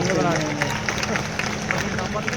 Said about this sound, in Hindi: एक बार जोरदार तालियां बजाइए आप